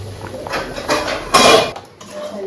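Cooking pot lifted off a stove in a home kitchen, with clanking metal, a scrape and a louder clatter near the middle of the clip, close and fairly loud.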